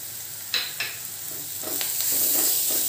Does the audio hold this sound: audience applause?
no